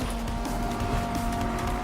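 Engine drone with sustained tire squeal as a car drifts in Need for Speed 2015, a steady mid-level roar with tonal whine running continuously throughout, no voices.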